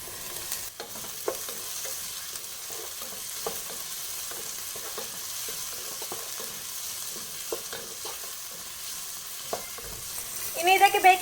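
Egg fried rice with red and yellow capsicum is tossed in a pan. A soft, steady sizzle runs throughout with scattered scraping clicks from the spatula, then a brief louder stir at the end.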